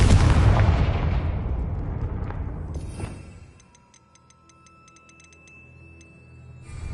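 A Confringo fire spell cast in the Hogwarts Legacy video game lands as a loud, booming explosive blast that rumbles and fades over a few seconds, followed by quieter rapid ticking and a sustained tone.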